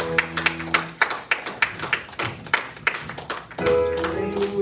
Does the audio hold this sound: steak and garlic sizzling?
no